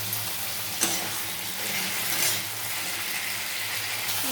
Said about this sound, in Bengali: সবজিগুলো আমি একটু ভালো করে ভাজা ভাজা করে নিই।